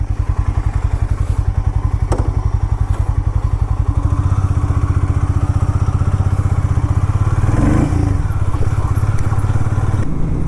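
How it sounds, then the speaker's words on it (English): A Harley Davidson X440T motorcycle thumps along on a short ride, its single-cylinder beat pulsing steadily and rising slightly as it gathers pace, close and loud with rattly wind noise. "Now let's go for a short ride on the all new Harley Davidson X440T."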